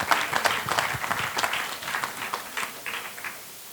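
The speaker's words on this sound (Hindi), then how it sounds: "जोरदार ताली से स्वागत कीजिए।" An audience claps at a Lions Club of Howrah gathering in Kolkata, a lively burst of applause that thins out and fades away near the end.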